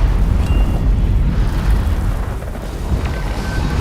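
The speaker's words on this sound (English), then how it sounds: "That bloodstone explosion seemed to trigger some sort of magical echo." Bloodstone explosion in Guild Wars 2, a heavy, sustained rumbling roar with a loud low-end blast that lingers steadily throughout, no voices.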